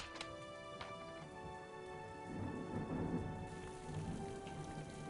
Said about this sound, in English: There it is, still raining.